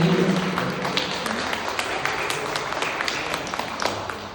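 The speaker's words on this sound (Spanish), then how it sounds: "denle un aplauso a las personas que están por primera vez" A church congregation applauds first-time visitors at a Sunday service, a dense patter of many hands clapping through the room, strongest at first and slowly thinning out.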